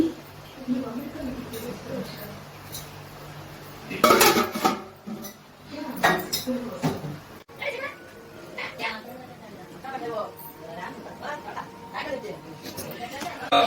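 Metal lid set onto a pot of bagara rice in a home kitchen, a loud clatter of pots and utensils around the middle amid ongoing kitchen clinks, with a cat meowing and people talking in the background.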